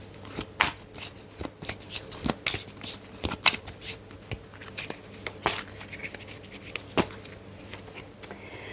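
Oracle cards being shuffled by hand close up: quick, irregular riffling and slapping bursts repeated over and over with short pauses between, crisp and moderately quiet.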